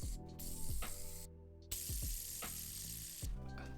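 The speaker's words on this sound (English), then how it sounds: "a precision screwdriver, which can act as a fidget toy" Quick ratcheting clicks from a precision screwdriver flicked back and forth like a fidget toy, close and fairly quiet, in short repeated bursts with brief pauses between them.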